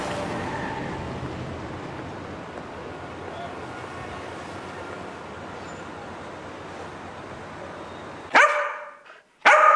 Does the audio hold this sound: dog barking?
yes